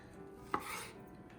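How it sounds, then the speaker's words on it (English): One quick knife chop through lamb on a board as it is cut into large chunks, a single close, sharp thunk against quiet kitchen hush. "I'll just cut all this up,"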